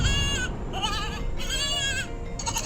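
Baby goat in a video game bleating in repeated wavering cries, three to four close, clear calls in quick succession over a steady game background.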